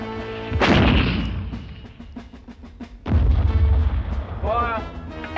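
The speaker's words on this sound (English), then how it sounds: "Put a couple of bombs over on the trenches in front." Two heavy artillery blasts boom close and loud over World War One trenches, each followed by a rumbling decay, with a shout between them.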